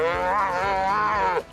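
A single long, loud cow moo close by, with a steady, slightly wavering tone that swells and then breaks off suddenly, on a ranch in the Morrison Mountains.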